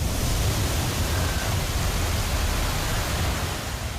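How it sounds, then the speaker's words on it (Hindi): Overflowing waterfall in Sawai Madhopur, swollen by torrential monsoon rain, a steady broadband roar of rushing water, loud and unbroken with no voices. "मूसलाधार बारिश की वजह से सवाई माधोपुर के झरने भी उफान मार रहे हैं।"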